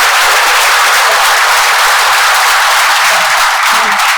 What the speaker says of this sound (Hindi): एक बार जोरदार पूरी हिम्मत से ताली बजा के दिखाओ